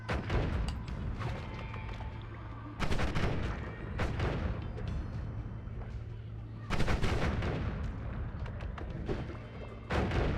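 Rocket detonations in Noita, a string of loud crackling explosive bursts recurring every few seconds over a continuous rumbling, gunfire-like roar of projectiles.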